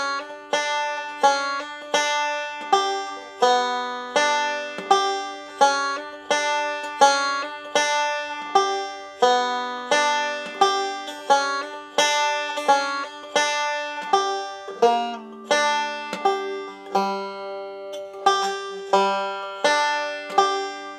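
Banjo picking a line at a slow tempo: a steady stream of bright plucked notes with quick decays, repeating rhythmically for about twenty seconds, close and unaccompanied.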